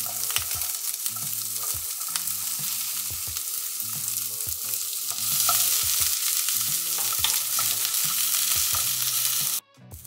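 Crushed garlic and half a red onion fry in a drizzle of olive oil, with a loud continuous hiss and sizzle, occasional stirring scrapes and a low rhythmic hum underneath, ending abruptly.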